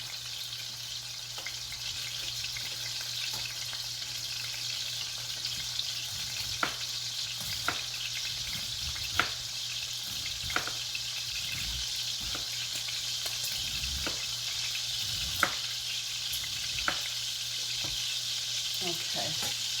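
Bacon strips frying in a pan: a loud, continuous crackling sizzle with scattered sharp pops and occasional stirring scrapes, close up and with no talking.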